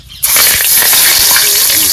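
Hot oil in a pan for cooking fish, bursting into a loud, close sizzle after a short quiet start and crackling steadily with sputtering pops to the end.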